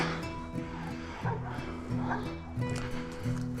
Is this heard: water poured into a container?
no